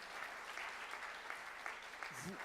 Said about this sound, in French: on peut applaudir très très fort Monsieur Blanchet.